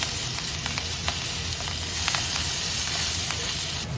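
Green chillies fry in hot oil, a continuous dense sizzle with small crackles and pops, close and steady with no talk.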